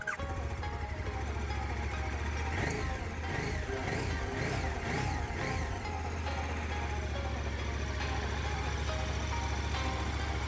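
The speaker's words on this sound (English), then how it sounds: "First attempt to start the engine after repair." A repaired KTM 1290 Super Adventure motorcycle engine runs loudly and steadily, with a burst of rhythmic revving partway through before settling back to a constant idle drone.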